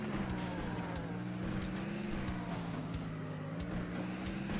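A van driving in the zombie game Earn to Die 2 with a new gearbox, a steady, loud engine drone with a constant pitch, joined by occasional rattles and thuds.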